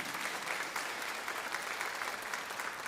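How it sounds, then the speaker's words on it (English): Steady applause from an audience at a college convocation fills the room, even and continuous clapping with no voices over it. "Feel free to applaud, yeah."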